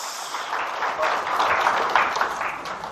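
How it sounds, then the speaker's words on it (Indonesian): A church congregation claps in a brief burst of applause during a sermon, fairly close, with voices mixed in under the clapping. "Tepuk tangan bagi Yesus"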